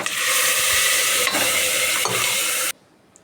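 Ground greens and lentil paste drop into a hot tempering, setting off a loud, close, steady sizzle with a couple of sharper bursts before cutting off abruptly near the end.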